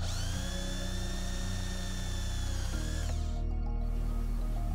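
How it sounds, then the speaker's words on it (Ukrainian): A high-pitched power drill whines steadily while drilling holes in 0.5 mm brass sheet, its pitch dropping as it bites into the metal, then continuing at a lower tone; no talking. "Свердлимо отвори."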